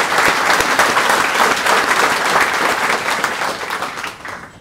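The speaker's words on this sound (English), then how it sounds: "maybe just give the lads a round of applause" Round of applause from an audience at the opening remarks of a youth event, dense, loud, continuous clapping that holds steady and then tapers off near the end.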